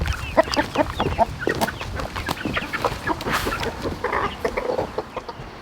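Farm chickens cluck and squawk busily at feeding time near the house, with many overlapping close calls in an uneven, chattering rhythm throughout.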